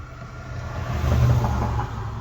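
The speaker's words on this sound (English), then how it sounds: "I got a lot of traffic going by here, so it might be hard to hear." Road traffic passes by a locksmith working on a Honda lock: a broad rumbling vehicle swell grows louder toward the middle and then eases off, with no voices.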